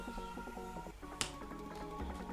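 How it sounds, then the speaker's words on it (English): A single sharp finger snap lands midway through, a quick crisp click standing out briefly over steady background music. "Whenever I snap my fingers, that's a cut"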